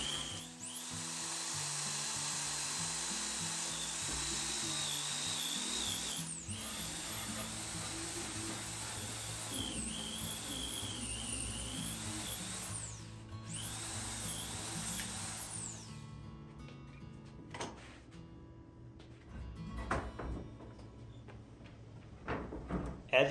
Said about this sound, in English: I clean up the notch with a mini belt sander to ensure the frame will fit.